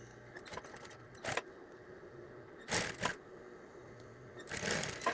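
A sewing machine runs along the seam of a flamingo hooded towel, a steady mechanical hum with louder bursts of rapid stitching at intervals, close and alone with no talk.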